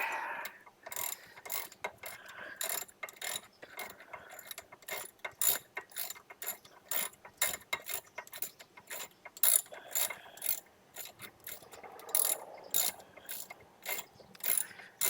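A socket ratchet wrench clicks rapidly in bursts while working on the rear brakes of a Honda Accord. The dense metallic pawl clicking is close and loud, with short pauses between strokes and no talking.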